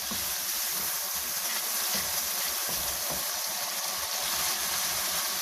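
Ground tomatoes hitting hot gravy in a pan, producing a loud, steady, hissing sizzle that carries on evenly throughout without talk.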